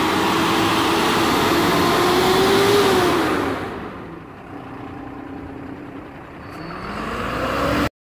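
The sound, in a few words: Tata BS6 truck engine starting and running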